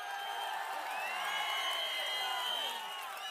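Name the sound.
crowd cheering and clapping at a political rally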